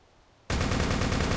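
Rapid automatic gunfire in the zombie survival game Darkest Days bursts in suddenly after a quiet half second, then keeps hammering as a loud, steady stream of closely spaced shots.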